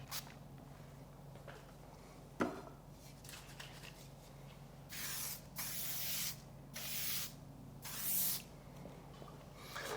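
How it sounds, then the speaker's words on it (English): Several bursts of hairspray hiss from an aerosol can onto freshly cut short hair, each a few seconds long with short pauses between, close and fairly loud. "Bit of session spray, just as the hairspray, just to lock it in"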